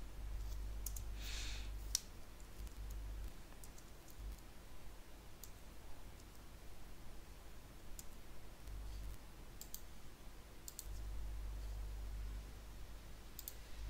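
Quiet, crisp computer mouse clicks sound during work in AutoCAD, single and doubled taps scattered irregularly over a low steady hum, close to the microphone with no voice present.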